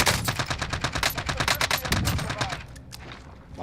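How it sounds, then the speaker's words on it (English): Rapid bursts of enemy gunfire in the video game Warzone, a dense run of sharp, evenly spaced shots that fills most of the moment before thinning out into a few scattered cracks near the end. "I see this guy shooting at me"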